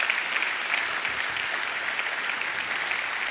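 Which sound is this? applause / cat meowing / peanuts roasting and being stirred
applause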